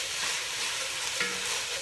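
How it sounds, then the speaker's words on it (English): Homemade sofrito for a seafood paella sizzles and is stirred in a hot pan, a steady, close crackling hiss with no talking. "You hear that noise, that sizzling?"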